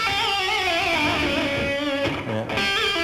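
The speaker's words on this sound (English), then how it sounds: "It's just where you just play a note and then pull up real Sharp" A distorted electric guitar plays a sharp, abrupt whammy-bar pull, the Arabian Pull, over a Mixolydian lick: sustained wavering notes bend quickly up and let go, with a brief dip near the end, close and alone.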